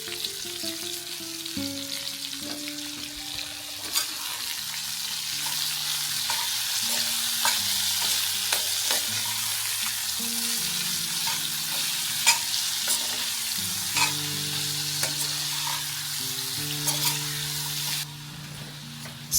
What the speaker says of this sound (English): Toss it well in the oil so every piece gets nicely coated